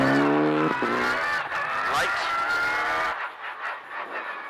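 Rally car braking hard into a handbrake corner on tarmac at the Quit Forest Rally, with engine howl dropping, tyres squealing, and revs rising again as it exits, all under a commentator's continuous talk.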